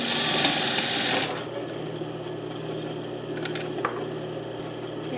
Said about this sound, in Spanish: Y ahora sí vamos a coser.